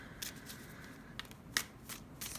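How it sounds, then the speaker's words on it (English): A tarot card deck is shuffled by hand in short papery bursts of riffling, several quick flurries close up and soft, with no talking. "with this more pleasing to the ear shuffle on camera"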